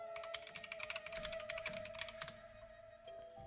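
Close, quiet typing on a clicky computer keyboard: a fast run of crisp keystrokes that stops after about two seconds, then a final couple of clicks over a faint steady hum.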